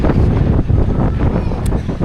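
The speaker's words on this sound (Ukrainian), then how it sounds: "Але вітер такий досить неприємний." Strong wind in Vietnam buffeting the microphone in a constant low rumble, gusting unevenly throughout.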